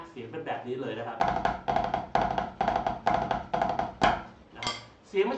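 A drum played in the Cheese rudiment pattern, with a quick run of sharp, close strokes repeating in an even rhythm, each stroke carrying a doubled grace-note attack.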